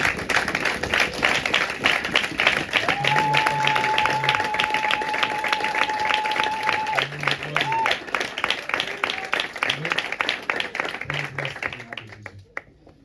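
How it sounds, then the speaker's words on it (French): A church congregation at a Sunday service claps steadily in rhythm, a loud, continuous patter of many hands, with a sustained sung or hummed tone rising above it partway through. "Nous allons nous lever pour acclamer la parole de Dieu"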